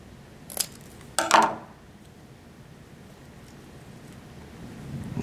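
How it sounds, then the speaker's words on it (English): Scissors snip through cardstock while strap pieces are cut for a model boat's ram, two short crisp cuts, the second a longer scraping snip, close and clear over a quiet room. "I'm going to cut it there, and I'm going to glue it on the ram, and then I'm going to cut a couple straps."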